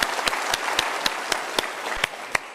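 Seminar audience applause, a steady wash of many hands clapping, with one nearby clapper landing sharp, evenly spaced claps roughly every quarter second on top.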